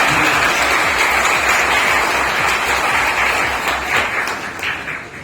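Sustained applause from an audience at a postal division gathering in India, a dense steady wash of many hands clapping that fades slightly toward the end, with no speech.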